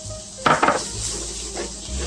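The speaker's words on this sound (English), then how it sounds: "By just pan frying the seasonings, you're going to open up the spices" Soft sizzling of seasonings frying in a pan with a couple of clattering stirs of a utensil, close by and fairly quiet.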